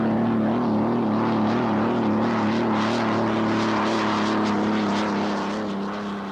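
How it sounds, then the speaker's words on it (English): A piston-powered hydroplane racing boat engine drones loudly and steadily, a strong buzzing tone with a slight waver, holding for several seconds before easing off slightly at the end. "This is a piston-powered hydro."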